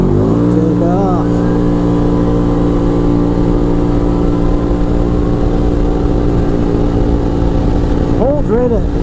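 An ATV engine held at high revs near 7,000 RPM, running at about 72 mph toward top speed, droning loud and steady with strong harmonic tones, rising pitch sweeps near the start and end.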